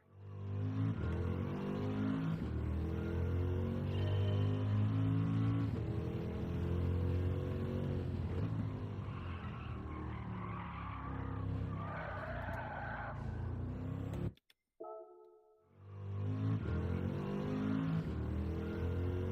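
Tires squeal and skid under a loud, sustained engine roar as a race car oversteers in Gran Turismo 7, with a brief cut to near silence before the engine noise returns.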